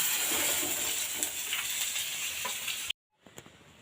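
Fish pieces sizzle and spit in hot oil, a steady close frying hiss with small pops, cutting off abruptly near the end before faint crackles resume.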